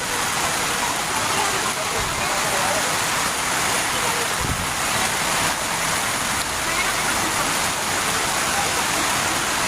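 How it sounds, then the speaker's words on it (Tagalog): Heavy typhoon rain pours steadily in a dense, continuous hiss, loud and unbroken throughout, in Antipolo. "patuloy pa rin yung ulan"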